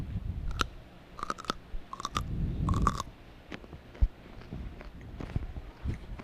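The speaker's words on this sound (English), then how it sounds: "I finished chewing my bite." Someone chews a bite of apple close up: sharp wet crunches in several bursts early on, then softer, slower mastication with occasional small clicks, no speech.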